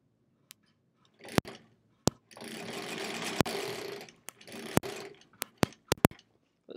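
A sewing machine stitches quilt block pieces in two short bursts of steady whirring, with sharp clicks and taps from handling the fabric in between, close and fairly quiet.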